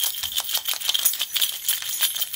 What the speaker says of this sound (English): I'm just hearing your keys jingle.